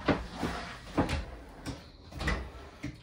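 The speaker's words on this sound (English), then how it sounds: "You've got some drawers here for storage." Desk drawers in a 2023 KZ Connect 292RDK camper slide open and shut several times in quick succession, each a close, hollow thud with a short rumble and no one talking.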